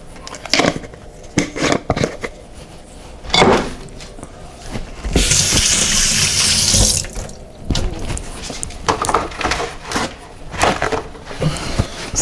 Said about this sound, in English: Sorry, I just wanted to wash my hands.